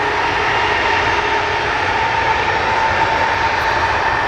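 Loud, steady roar of Boeing 737 Max jet engines at an airport, close and continuous with no other sounds.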